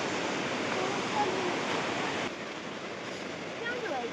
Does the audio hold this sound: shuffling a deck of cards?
no